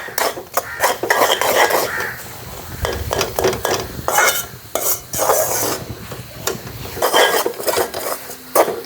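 Coconut milk toffee mixture with grated coconut is stirred steadily in a pan, giving close, repeated scraping and clinking of a spoon against metal with a faint sizzle underneath.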